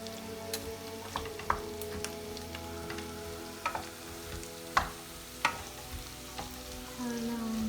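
Vegetables, including carrot, stir-fried in a pan for a home-cooked Skyrim-inspired dish: a steady close sizzle with scattered scraping clicks and taps from the stirring utensil, no voices.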